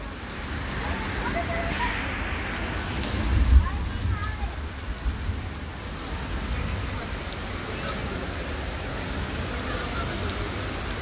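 Heavy rain pouring at Legoland Dubai, a dense steady hiss of drops on surfaces, close and loud throughout, with a brief swell of louder splashing near the middle.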